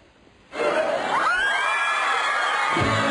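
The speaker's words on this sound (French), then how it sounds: "Des cris de bonheur à vous percer les tympans." Fans in Paris scream with joy at actor Robert Pattinson, a sudden eruption of loud, high-pitched shrieks and cheering from a dense crowd that holds steady after starting abruptly.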